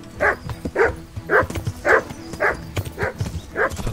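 In the medieval video game Kingdom Come: Deliverance, a hostile dog barks in a rhythmic series of seven loud, evenly spaced barks about half a second apart, with thudding hoof-like and clattering game noises underneath.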